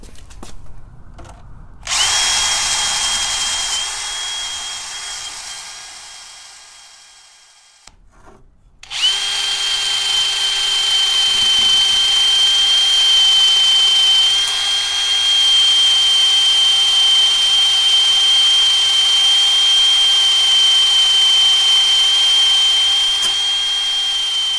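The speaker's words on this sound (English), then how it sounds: "for the area with the number, I'm going to use the cup brush" A power drill fitted with a wire cup brush scours rust off a dumbbell, a loud continuous high whine that cuts out briefly, then runs steadily again at close range without speech.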